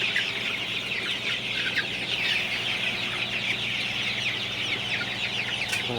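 Sonali super hybrid chickens on a poultry farm keep up a dense, steady chorus of clucking and chirping from many birds at once, close and fairly loud, with a faint fan-like hum underneath and no talking.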